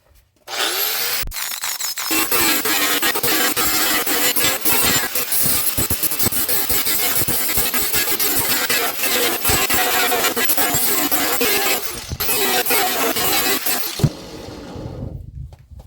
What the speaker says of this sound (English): I'm going to use the flap wheel to grind this down.